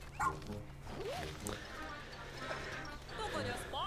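Quick yips and barks from the Pikmin trailer's dog sound close over a busy bed of game music and effects, with some voice-like sounds mixed in.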